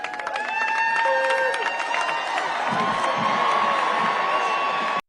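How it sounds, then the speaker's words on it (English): A large crowd shouts and screams loudly and continuously as an elderly man falls, with high cries and whoops running throughout before cutting off abruptly. "People are screaming."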